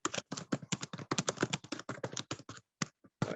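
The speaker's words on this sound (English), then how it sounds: "I hear somebody typing." Fast typing on a computer keyboard, with rapid light key taps in a quick run, then a few scattered taps after a short pause, faint and close.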